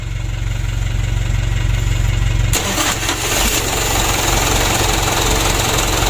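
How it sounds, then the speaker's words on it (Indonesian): Engine cranks and catches after a starter dynamo repair, turning from a droning crank into a rough, loud, steady running rumble that carries on to the end. "Untuk mesinnya sudah hidup."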